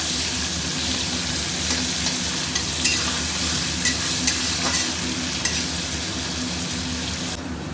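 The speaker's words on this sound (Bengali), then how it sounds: "একটু হালকা করে হালকা ব্রাউন হওয়া পর্যন্ত এটাকে একটু ভেজে নেব" Chopped onions sizzle steadily in hot oil in a pan for a Bengali mutton dish, a continuous close frying hiss with occasional scraping stirs, no voices.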